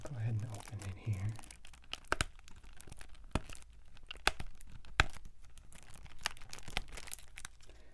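Crinkly plastic wrap being torn and crumpled off a new country music CD, close and crisp with sharp tearing bursts and rustles, a voice murmuring briefly at the start.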